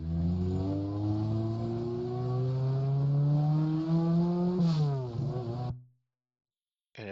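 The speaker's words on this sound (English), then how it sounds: "I had to get a sound editor so I could make the brake sound longer." A car in a Unity video game gives a steady, buzzy engine drone that climbs gradually, then sweeps sharply downward as the car brakes. It cuts to silence just before a brief restart at the end.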